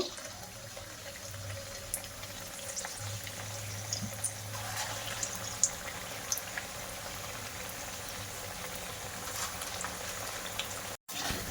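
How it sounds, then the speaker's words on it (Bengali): Semolina snacks fry in hot oil in a wok, giving a faint, steady sizzle broken by small occasional pops and crackles. "তেলটা গরম হয়ে গেছে এবার একটা একটা করে দিয়ে দেব"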